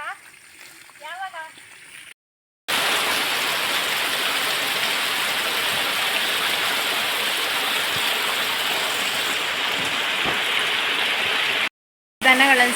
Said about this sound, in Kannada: ಈಗ ಮಳೆ ಬರಲಿಕ್ಕೆ ಸ್ಟಾರ್ಟ್ ಆಗಿ ಒಂದು 1/4 ಗಂಟೆ ಆಯಿತು, ಬರ್ತಾ ಉಂಟು